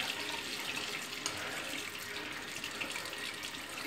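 Water runs from a tap while rinsing after a safety-razor shave with a Merkur Futur and Derby blade, a steady soft hiss of flow into a sink, unbroken and close, with no voices.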